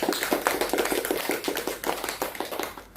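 Clapping for a student after her catechesis presentation at a secondary school, a small group's hand claps spaced irregularly, close and moderately loud, with no voices over it.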